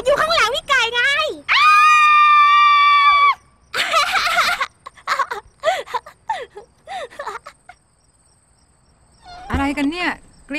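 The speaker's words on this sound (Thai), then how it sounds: "อะไรกันเนี่ยกรี๊ดกราดเสียงดังลั่นไปหมด" Children let out loud, sustained high-pitched screams between stretches of excited voices, with shrieks rising and falling close by.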